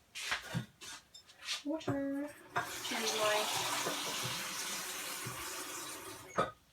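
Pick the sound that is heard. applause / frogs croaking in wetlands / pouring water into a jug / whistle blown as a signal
pouring water into a jug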